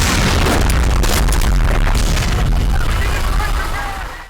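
A bomb bursts nearby on the World War I battlefield of Passchendaele: a loud, close blast followed by a heavy rumbling roar that slowly dies away.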